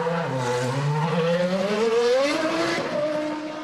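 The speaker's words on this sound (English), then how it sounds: "We're just going to wait while Jos Verstappen comes out the garage." A Formula One car, Cosworth-era Arrows at the 2001 German Grand Prix, pulls out of the pit garage, its engine note rising steadily and loud, with some tyre noise, then easing slightly at the end.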